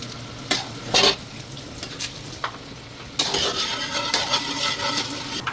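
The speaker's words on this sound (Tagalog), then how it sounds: "Lagay ko na rin kaagad ang ating minced garlic." Minced garlic sizzles in a pan while beef caldereta is being cooked, with a steady frying hiss broken by several sharp scrapes and clinks of a utensil against the metal, and no talking.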